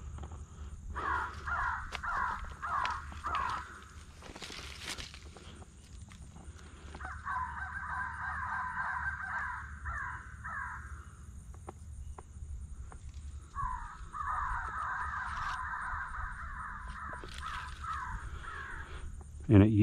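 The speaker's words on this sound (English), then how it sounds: "All right, so we've selected crows. And just get that volume up." Electronic caller plays recorded crow caws in three long bursts of repeated calls, loud and close, with quiet outdoor background and faint insects between bursts during a crow hunt.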